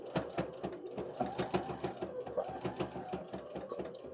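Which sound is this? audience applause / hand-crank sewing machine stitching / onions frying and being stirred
hand-crank sewing machine stitching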